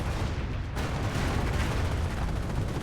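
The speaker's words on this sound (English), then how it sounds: "ISU-152 trying to fire at this pack" Artillery fire in the World War II strategy game Company of Heroes, a continuous roaring wall of booms and blasts, loud and dense throughout with no clear gaps.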